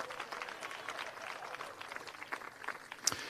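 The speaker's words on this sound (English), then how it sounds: "Give them all a round of applause." An outdoor audience at a municipal band concert in Peoria gives a round of applause. The clapping is moderate, steady and somewhat distant, with a single sharp click near the end.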